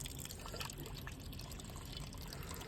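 Cold, clear mountain water trickling on the Amarnath Yatra route, a soft, steady babble and splash close by, quiet and continuous.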